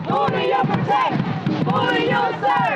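Protesters marching toward police headquarters shout and yell together in loud, overlapping bursts, a dense crowd of raised voices close by.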